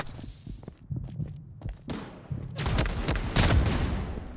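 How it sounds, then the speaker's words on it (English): Gunfire in the video game Blood Strike, with scattered thumps and footsteps at first, then a dense, loud burst of rapid shots near the end. "I'm getting shot by noobs, bro."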